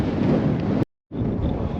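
Wind buffets a microphone on a Cairngorms mountain trail, a loud, rough roar that cuts out for a moment, then returns just as strong.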